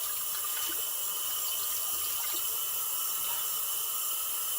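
Water from a tap pours steadily into a sink, a continuous close, bright splashing rush with no pauses.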